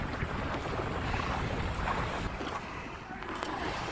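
Strong wind roars steadily and loudly across an outdoor spot where fish is being grilled over wood, buffeting the microphone with continuous broadband rumble and gusts, with no talk over it.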